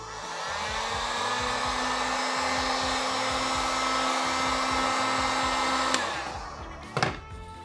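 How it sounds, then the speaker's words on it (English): A heat gun blows steadily on a bike fork to soften an old decal, a constant loud whooshing hum with a fan whine that cuts off near the end, followed by a couple of brief knocks. "we'll go ahead and use a heat gun here to heat up the existing decal and help peel it off"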